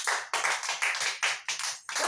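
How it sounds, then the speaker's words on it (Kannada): A group of children clapping for a classmate, about eight quick uneven rounds of applause close by in a small room, with no voices. "ಜೋರಿ ಚಪ್ಪಾಳೆ ಹಾಕ್ರಿ ಅದ್ವಿತಿಗೆ."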